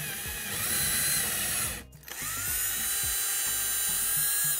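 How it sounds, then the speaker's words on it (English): Power drill boring a pilot hole into a bedroom door for a screw, a steady high whine running nearly throughout, with a brief stop and restart just before the two-second mark. "I'm going to take and drill pilot holes in here for my screw to go in."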